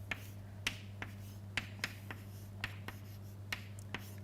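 Chalk or marker taps and strokes on a board during a semiconductor physics lecture, about a dozen short, faint clicks spaced irregularly over a low steady hum, with no talking.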